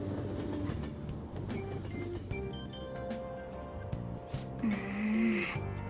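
A crowded commuter train rolls along in Persona 5 Royal, giving a steady low rumble with clacks and mechanical tones and a rising whine near the end, and no one speaks.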